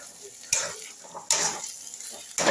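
Cooked lentils and taro being stirred in a wok after adding ground spices, with three sharp scraping strokes over a low frying sizzle.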